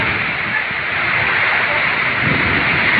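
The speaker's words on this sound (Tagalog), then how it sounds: "Lakas ng hangin sa ulan." Strong wind with rain lashing a coastline where roofs and boats were damaged, a loud continuous roar of gusts buffeting the microphone, steady and unbroken throughout.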